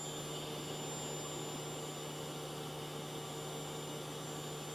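A Mori Seiki NT-4300 DCG multi-axis CNC turning center, a 2007 machine, has its spindle running at 9,000 RPM, giving a steady, loud mechanical whine with a constant tonal hum that holds without a break.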